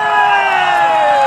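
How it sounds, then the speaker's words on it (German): Crowd cheering and whooping at an outdoor fireworks event after a rare witches' dance, a dense, steady wash of many voices, loud and close throughout with no pauses. "für die Hexen kriegen wir sowieso noch einmal einen Applaus, oder?"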